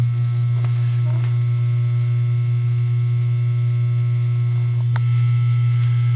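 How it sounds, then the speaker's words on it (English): Vibratory automatic feeding bowl on an ABI Mini Fusion Welder 7000, running on 110 volts and feeding earring posts up its tracks, gives a steady, loud electric hum that persists throughout, with a couple of faint taps and no speech. "This is the automatic feeding bowl."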